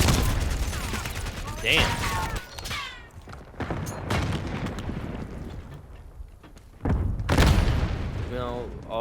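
Gunfire and explosion bursts from a Black Ops 6 match, with sharp shots and booming blasts in irregular clusters, loud and close, broken by brief lulls. Someone talks over the action at times.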